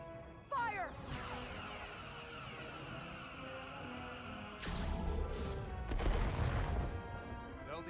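Starship weapons fire in the PS4 game Star Trek: Resurgence, a dense sustained barrage that swells louder toward the end with crashing impacts, heard alongside game sounds and a voice.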